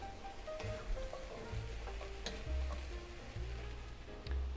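Carrot and celery sizzling as they go into a pan of French-style beef stew, giving a steady close frying hiss with low stirring thumps and scrapes throughout and no voices.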